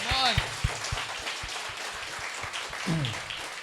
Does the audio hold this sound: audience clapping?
yes